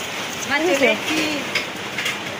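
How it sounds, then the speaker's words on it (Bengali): Steady heavy rain with big drops hissing down, with a voice speaking briefly over the downpour. "বড় বড় ফোঁটা নিয়ে বৃষ্টি শুরু হয়েছে"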